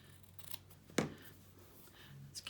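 Scissors make a single sharp snip through a fabric strip, close and clear against a quiet room, with a few soft handling rustles around it.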